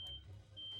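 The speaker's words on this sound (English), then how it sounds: "the sound you're hearing is a smoke detector" A smoke detector emits a thin, steady high-pitched beep, faint and continuous across the moment with low background hum.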